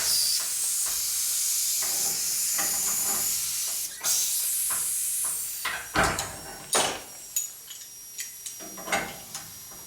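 Pressurized air at about 50 psi hisses steadily from leaking NPT pipe threads, a loud continuous hiss that gives way to a series of short, sharp spurts and puffs.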